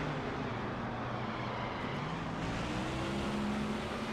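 A race car roars past in a NASCAR racing video game: a steady, loud engine drone with a faint pitch sweep as it passes close by, no voices.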